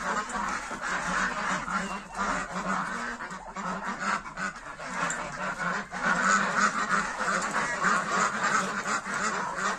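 A flock of ringed drakes kept with turkeys on a farm, quacking and honking continuously and loudly at close range, many overlapping calls forming a steady noisy chorus.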